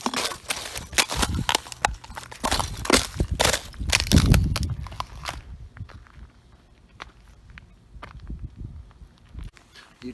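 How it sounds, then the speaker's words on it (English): Ice breaks out of puddles on a November day in a run of sharp, close crunches and cracks underfoot that are loudest at first, then fade into sparser, softer crackles and steps. A person speaks over part of it. "Don't you just love breaking the ice out of the puddles?"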